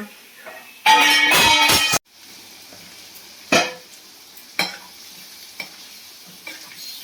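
Potatoes hit hot oil in a pan with a loud burst of sizzling, followed by scattered stirring scrapes and quieter frying.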